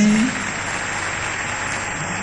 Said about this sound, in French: Vous acclamez pour lui.